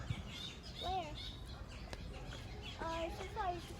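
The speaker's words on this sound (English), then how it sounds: "More birds." Birds calling at San Diego Zoo, including a kookaburra, with several clear chirping and whistled calls around one and three seconds over constant outdoor crowd murmur and background chatter.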